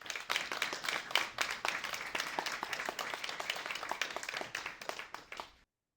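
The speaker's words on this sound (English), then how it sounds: "now let us give a warm applause for Nadim Rouhana" An audience claps in warm welcome for Nadim Rouhana at a Room for Discussion talk, steady dense applause lasting several seconds before it cuts off abruptly.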